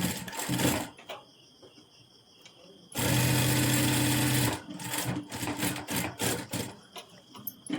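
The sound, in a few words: sewing machine stitching a princess cut blouse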